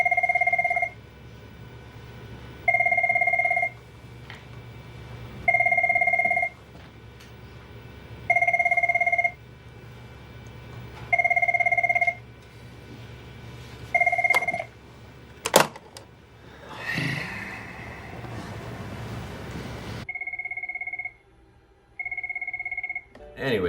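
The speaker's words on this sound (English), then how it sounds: "it's the Cisco ringtone in my eyes." A Cisco office desk phone rings with a two-tone electronic pattern, repeating in regular bursts of about a second, followed by a clatter as if the handset is picked up, then a few more rings.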